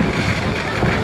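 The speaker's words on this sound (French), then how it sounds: "Ah, mais il y a beaucoup de vent." Strong outdoor wind in Colombia buffets the microphone, making a loud, continuous, rough roar with no pauses across the short moment.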